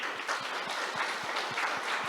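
An audience at a business summit applauds in a full, continuous wash of clapping from many people, steady and fairly loud across the whole moment, with no voices over it.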